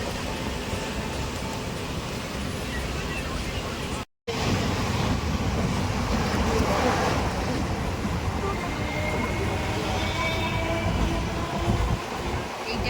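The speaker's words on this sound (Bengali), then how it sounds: "ফাইনালি ট্রেনটা ছাড়লো এখন" A train pulling away slowly from a Kolkata station on the way to Murshidabad, heard from inside the carriage as a steady rumble and rattle with a brief dropout, faint voices underneath.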